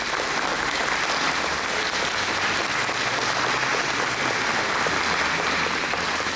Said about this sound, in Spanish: Le brindamos un aplauso